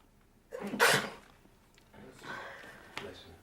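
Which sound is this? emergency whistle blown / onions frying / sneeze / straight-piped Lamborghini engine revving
sneeze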